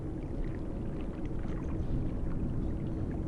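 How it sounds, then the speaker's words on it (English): Water in the Rain World video game makes a steady, low, rumbling wash that flows continuously and evenly with no voices. "I hear the sound of water"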